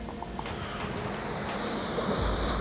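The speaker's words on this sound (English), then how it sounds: "just hearing the sea and stuff" Sea waves washing along the shore of El Hierro in the Canary Islands, a steady continuous roar of surf with wind noise, moderately loud and unbroken, with no voices.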